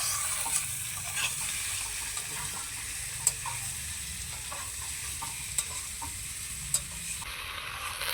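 Potatoes being stirred and fried with spices in a pan, a soft steady sizzle with occasional faint scrapes and clinks of the spoon, fairly quiet and alone.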